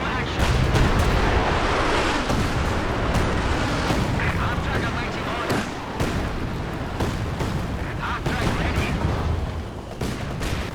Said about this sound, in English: seems like he really likes those low-angle Werfer barrages